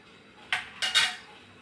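A plate being set over a biryani pot, giving two or three quick metallic clinks and scrapes close by, then quiet, with no talking.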